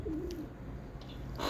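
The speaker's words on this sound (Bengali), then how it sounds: "আমার কবুতর।" A pet pigeon gives a short, soft coo close by, brief and quiet against a faint background hum.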